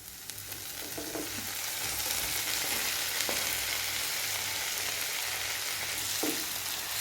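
Chopped tomatoes sautéing in a pan with ginger and garlic for a brinjal gravy to go with biryani, giving a steady broadband sizzle throughout with a few soft stirring scrapes.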